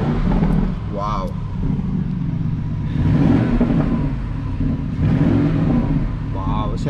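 A Porsche Cayenne GTS Coupe's engine rumbles deeply in Sport Plus mode, swelling into two revving surges, with someone talking over the loud, close exhaust throughout.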